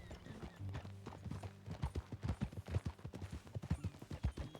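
Horse hooves in Red Dead Redemption 2, a steady rhythmic clip-clop close by that keeps on through the whole stretch over low background ambience.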